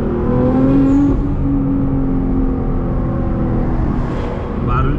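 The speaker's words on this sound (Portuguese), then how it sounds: "O barulho do turbo, tipo, é fora do comum." A 730-horsepower Nissan GT-R R35 runs with its turbo whooshing and whirring over a steady, loud engine drone, close by and continuous, with a brief rising whistle near the end.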